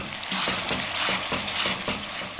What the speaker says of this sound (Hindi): अब इसको हम 2 से 3 मिनट के लिए अच्छे तरीके से भून लेंगे।